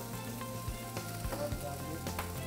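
Biryani frying in a pan with a steady, moderately quiet sizzle throughout, plus a few clinks and stirring scrapes and no voices.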